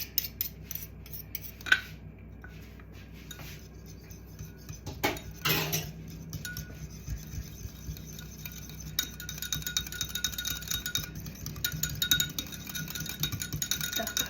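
Utensils clink and scrape against a bowl while mixing, with scattered clatters and a sharp knock early on; no talking.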